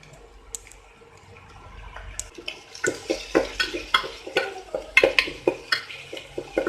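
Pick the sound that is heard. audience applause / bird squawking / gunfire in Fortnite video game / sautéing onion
sautéing onion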